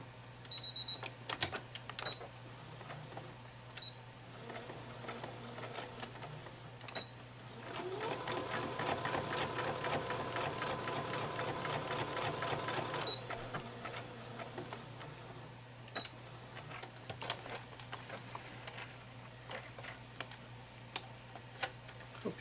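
A sewing machine stitches darts in a face mask lining, running steadily for about five seconds in the middle with a rapid, even needle rhythm, quiet handling noises before and after.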